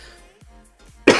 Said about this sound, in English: Apologies if there's still, obviously, a couple of coughs during this stream as well.